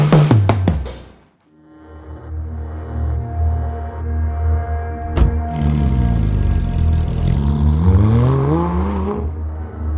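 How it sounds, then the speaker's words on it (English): Porsche 911 GT3 RS with straight pipes: a few sharp blips open, then the engine climbs in a loud, rising howl through the gears, close and unbroken, with no voices. "It is immediate, the realisation this 911 is different to others simply by the noise it makes."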